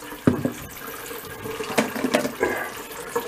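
Home-distilled spirit splashes and trickles into a 1.18 liter plastic jug in a few short pours, close up and fairly loud, with no talking.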